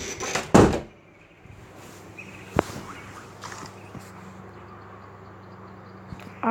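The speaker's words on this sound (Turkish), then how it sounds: "Şu kapıyı da bir kapatalım." A door swings shut in the video game Dino Hunter with one loud thud near the start, then a quiet stretch broken by a few faint clicks and knocks.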